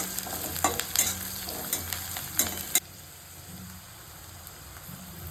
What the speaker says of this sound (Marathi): थोडा आपण त्याच्यामध्ये कोडिंबाचा पाला घालूया. ते थोडा वेळ फिरवत राहायचं.